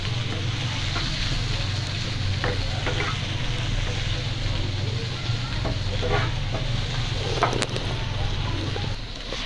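Tomatoes, fresh peas and freshly added carrots fry in a pan for masala Maggi, a steady close sizzle broken by intermittent scraping stirs from a spoon, no talking.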